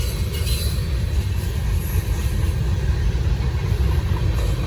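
Norfolk Southern freight train 154 rolling past at Gaffney, South Carolina, a steady, loud, close rumble of wheels and cars with a continuous low roar and faint rail squeal, no talking.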